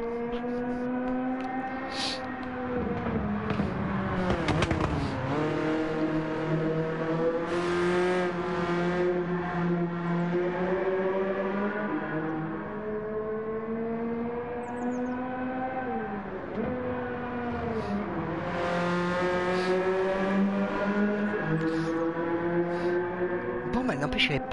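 A Honda Civic runs with a steady engine drone whose pitch rises and falls as the car speeds up and slows, continuous and fairly close, with a voice speaking faintly under it.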